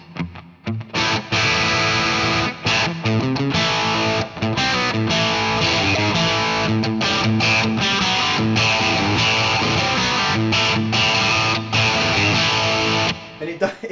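Distorted electric guitar through a plexi amp model playing a crunchy, chord-heavy riff, loud and continuous with brief pauses, with amp-style overdrive, light studio compression and a touch of reverb.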